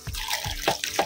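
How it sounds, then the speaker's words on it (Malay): Rice vermicelli noodles being rinsed in water in a home kitchen, with several splashy sloshes and drips coming in uneven bursts, close and moderately loud, no voices. "Mak nak cuci mie tu loh mie nya dicuci untuk kita buang air belenya"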